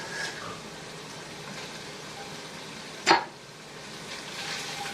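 Bacon and onion fry in a pan for soup, giving a steady, even sizzle throughout with one sharp clink partway through.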